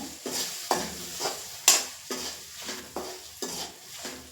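Green chilies with turmeric and a little salt being sautéed in a pan for green chili thokku, heard as about nine evenly spaced stirring scrapes over a soft, steady sizzle, close and clear with no talking.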